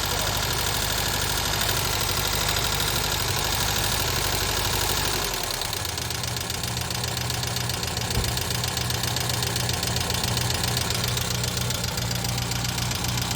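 An FSO car's engine idles close by while its ignition timing is adjusted, a steady dense drone that drops to a lower, rougher, slightly knocking idle partway through as the revs come down.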